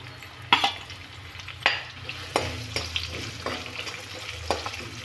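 Chopped onions frying in a pan, a steady close sizzle punctuated by several sharp spatula scrapes and knocks at irregular intervals as they are stirred.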